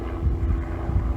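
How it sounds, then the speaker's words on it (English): A distant aircraft, probably a propeller plane, drones low and steady overhead on a preserve trail, a continuous rumble with faint wind noise and no talking. "There's always some kind of aircraft flying around."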